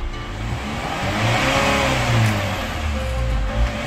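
Chevrolet Captiva FL AWD diesel with a hard-starting, smoking fault revs up close by, its engine rising to a loud roar before settling back to a rough idle.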